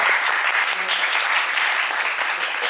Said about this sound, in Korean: 좋은 이야기로 이 시간을 보내주셨던 홍지영 감독님께 다시 한번 박수 보내드립니다.